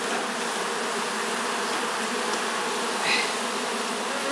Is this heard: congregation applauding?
no